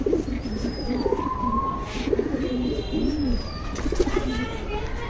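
Pigeons in a loft coo in soft, low repeated phrases close by, alongside a few thin whistling bird calls and light background rustling, with no talking.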